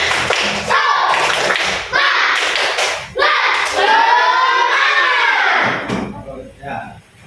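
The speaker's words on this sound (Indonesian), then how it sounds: "Tepuk semangat." A group does an Indonesian 'tepuk semangat' clapping chant, clapping in bursts of quick rhythmic patterns, broken by shouted voices chanting along between the clapping.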